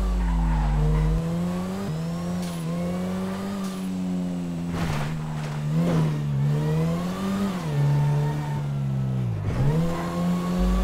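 Car driven fast in the video game GTA 5, its engine revving up and down in rising and falling sweeps with tire squeals, loud and continuous throughout, with no talking.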